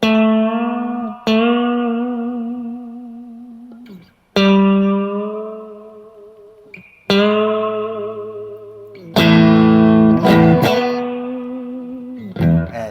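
Sustained electric guitar notes bent up and held with wavering vibrato, several phrases separated by brief gaps, loud and close with no talking.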